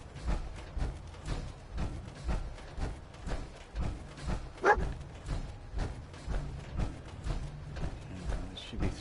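A dog, Dogmeat, barks repeatedly in Fallout 4 on PS4, the short barks landing at a steady rhythm over game ambience with clattering, hoof-like knocks and no talk.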